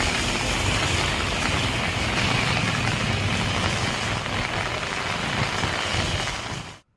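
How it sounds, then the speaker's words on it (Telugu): Heavy rain pours steadily across the East Godavari area during a low-pressure system, a dense, continuous hiss that stays loud and even throughout before cutting off abruptly at the end. "పెద్దాపురం, జగ్గంపేట, పిఠాపురం, ప్రతిపాడు, తుని ప్రాంతాల్లోనూ జోరు వర్షం కురిసింది."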